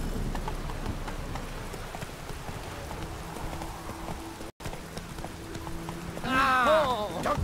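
Horse hooves clip-clop steadily through a rainy outdoor scene in The Witcher 3, a continuous mid-distance trot under ambient game sounds, ending with a brief bright burst of other sound.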